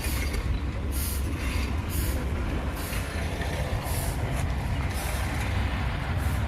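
Motorized automatic gate at a villa in Dubai, sensor-triggered, grinding open with a steady loud mechanical rumble and rolling noise, broken by short recurring high squeals.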